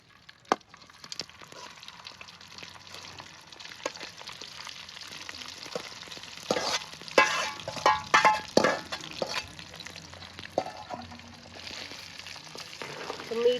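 Boiled chicken pieces frying in oil for chicken pickle over a medium flame, with a steady soft sizzle and occasional louder stirring clatters near the middle.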